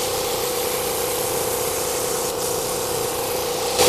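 A shop air compressor hums and hisses steadily, filling the space with a constant loud motor drone and broadband noise throughout, without any talk over it.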